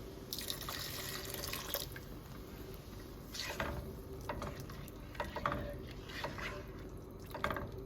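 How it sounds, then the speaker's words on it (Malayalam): Water poured into a pan of Kerala-style fish curry with coconut milk, a light trickling and splashing with clinks of a vessel, near and fairly quiet with no talk. "ഇതിലേക്ക് ആവശ്യത്തിന് വെള്ളം ഒഴിച്ച് കൊടുക്കാം"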